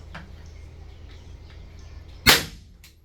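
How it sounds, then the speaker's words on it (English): A Tapcon powder-actuated nail gun firing a nail into concrete, one sharp loud bang that decays quickly, following quiet room noise and a few faint ticks. "That Tapcon gun actually shoots bullets to fire the nail into the concrete."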